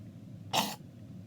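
A single short, hoarse cough from a person, close and fairly loud against a quiet background.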